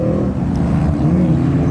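A 1968 automatic Camaro with a 15-year-old engine, nicknamed The Village Bicycle, races on a San Pedro track, its loud, steady engine drone holding close throughout with no talk.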